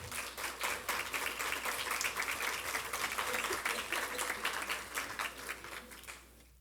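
Applause from the audience at an academic conference on family law, a dense, even patter of many hands clapping at moderate volume that carries on for several seconds before tapering off at the end.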